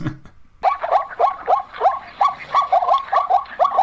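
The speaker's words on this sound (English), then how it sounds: "I do have a clip of zebra noises, and I'm going to share it with you" Zebras yipping and barking in a rapid, loud, close series of about a dozen harsh, evenly spaced yelps, with no talking.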